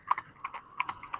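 Horse hooves clip-clopping on a road while a pair of horses is driven, several quick, close, evenly spaced clops in a short burst.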